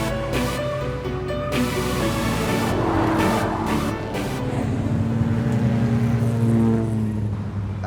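A car engine runs steadily and loudly throughout, with a continuous drone and shifting revs as it is driven, occasional brief tire or road noise rising over the hum.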